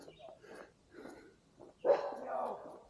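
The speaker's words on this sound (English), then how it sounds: "Dogs are hanging out." Dogs bark in short bursts at a forest campground at Black River Harbor in Michigan's Ottawa National Forest. A few softer yips come first, then a louder, closer run of barking, with a voice briefly mixed in.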